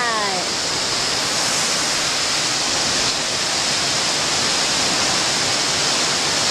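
Steady, loud roar of falling water at the seventh tier of Pha Sawan waterfall, a dense broadband rush that fills the whole clip without a break.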